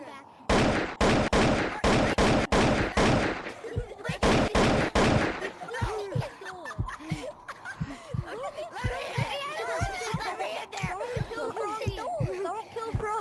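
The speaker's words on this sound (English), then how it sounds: "Stop shooting me." Rapid bursts of gunfire from the video game Monkey Labs open the clip, loud and repeated in quick volleys, then give way to a busy mix of game sounds with players talking over it.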